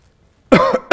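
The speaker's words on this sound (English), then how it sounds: "Just a cough." A person coughs into a quiet room, one sharp close cough followed a beat later by a second short one, loud and with no talk around them.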